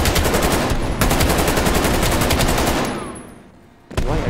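Rapid, loud bursts of gunfire from Call of Duty: Black Ops Cold War rattle continuously, break off briefly, then resume, dense repeated shots filling the scene.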